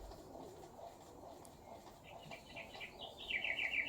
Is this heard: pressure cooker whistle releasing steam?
no